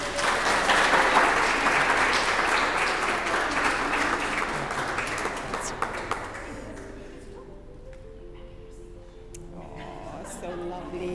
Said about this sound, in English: Family and friends, let's give them a big round of applause.